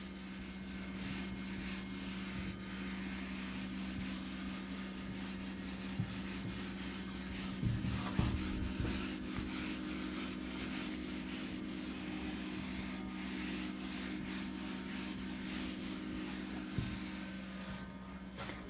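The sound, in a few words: rubbing erasing writing on a board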